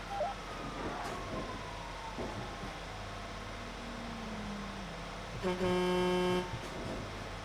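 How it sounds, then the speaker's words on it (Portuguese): Car horns honk in a GTA roleplay game: one sustained horn blast rises above engine and traffic noise, with faint earlier toots and a sliding siren-like tone in the background. "Estão buzinando de volta!"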